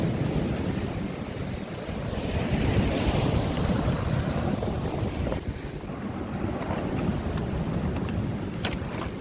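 Ocean waves wash against the shore of Bogildo island in Korea, a continuous surging roar buried under heavy, blustery wind buffeting the microphone.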